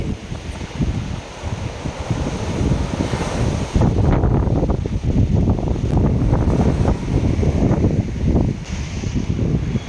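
Strong wind gusts buffet the microphone on a seaside road at Thoothukudi, a loud, continuous rumbling roar that surges and dips, with the sea faintly audible beneath it.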